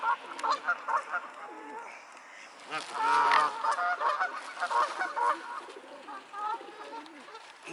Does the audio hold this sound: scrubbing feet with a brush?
no